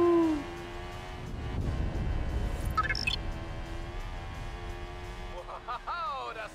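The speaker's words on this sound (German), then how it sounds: "Uhu." An eagle-owl gives a short low hoot at the start in the Forza Horizon 5 racing game, partly buried under game noise and someone talking over it.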